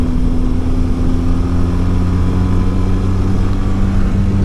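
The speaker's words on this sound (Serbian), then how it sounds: "Zvuk koji ispušta ovaj dvocilindraš dosta me podsjeća na neki ozbiljniji onako motor" Benelli TRK 502X twin-cylinder motorcycle engine running steadily and loudly up close, a continuous deep drone with strong low harmonics throughout, heard alone without talk.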